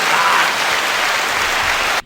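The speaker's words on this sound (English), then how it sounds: "Give him a round of applause." Dense audience applause at a full, steady roar from many hands, cutting off abruptly near the end.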